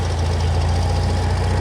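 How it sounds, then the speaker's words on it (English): A noisy tractor with a vertical exhaust runs loud and close while cutting grass, its deep engine throbbing in a steady, even pulse with no voices. "It is a pretty noisy tractor with the vertical exhaust"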